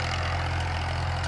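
A 1989 Massey Ferguson 240 tractor engine pulls an 11-tine cultivator through hard, rain-packed farmland, giving a steady, loud low diesel drone with a regular throb and no voices.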